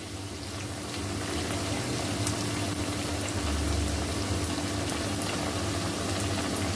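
Kothimbir vadi, coriander fritters, shallow-fry in a little oil, giving a steady, even sizzle and bubbling hiss that continues without pause and with no talk.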